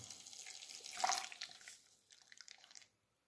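Water spurting from a radiator bleed valve into a glass as the key is turned, a hissing splash that peaks early, then trickles and drips before stopping abruptly.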